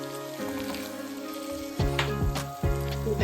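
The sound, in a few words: stirring tagliatelle sauce sizzling in pan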